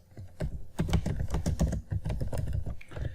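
Rapid typing on a computer keyboard while entering Java Selenium code, a dense run of close, crisp key clicks with a few brief pauses and no talking.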